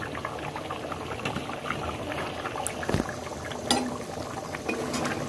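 Beef curry simmers in a pot as its gravy reduces, making close, continuous bubbling with scattered pops and splutters and no voices.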